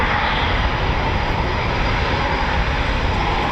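F-35 fighter jets pass overhead at an RAF air base, a loud, steady roar of jet engines that fills the whole span without letup, with no talking.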